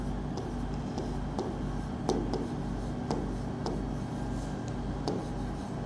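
Marker or chalk scratching on a classroom board as notes are written, with soft intermittent strokes and occasional sharper taps, close and steady over a low room hum.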